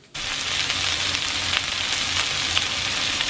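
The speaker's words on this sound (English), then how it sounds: "We're gonna get these frying up." Salmon patties frying in a pan: a loud, steady sizzle starts abruptly and holds evenly throughout, close up, with no talking.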